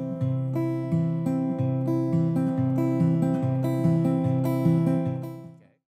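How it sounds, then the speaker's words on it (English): Fingerstyle guitar picked in a repeating thumb, ring, thumb, middle pattern, alternating bass notes under higher ringing strings, close and clean, fading out at the end. "The first one is thumb, ring, thumb, middle. It's gonna sound like this."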